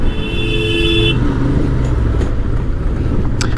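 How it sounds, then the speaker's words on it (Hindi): Road traffic is busy along a stretch under roadworks, with a steady loud engine rumble, one sustained car horn near the start and a few short higher toots later. "ये रोड का काम चल रहा है इसलिए बहुत ट्रैफिक रहता है यहाँ पे।"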